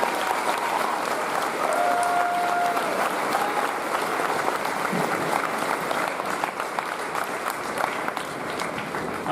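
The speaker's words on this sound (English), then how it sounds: "Would you please give a round of applause to Candy Reed and Anthony Holden." Sustained round of applause from a graduation ceremony crowd, dense steady clapping lasting several seconds at moderate distance.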